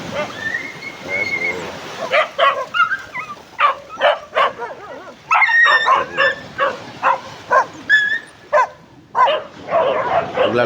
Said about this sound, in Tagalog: may nag-aaway na aso